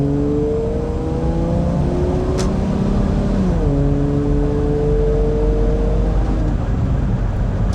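A Volvo 940 with a 2JZ VVT-i engine running on LPG being driven, its engine droning loudly and steadily with rising pitch as it accelerates, then easing back midway before climbing again.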